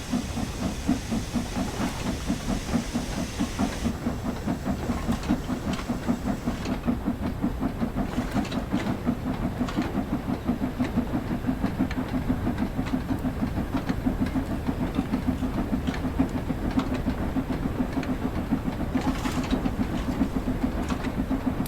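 An LMS 8F steam locomotive in Train Sim World picks up speed on the Widnes to Speke Junction route, with steady rhythmic chuffing under a constant loud hiss of steam and a faint rail clatter, and no talking.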